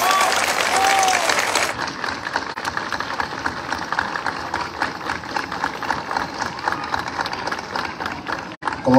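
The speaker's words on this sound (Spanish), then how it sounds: "regalémosle un aplauso a este público maravilloso de Panindícora" Outdoor audience at a Holy Thursday Via Crucis in Panindícuaro applauding, loud clapping at first that drops to a thinner, sustained patter with a low engine-like hum beneath.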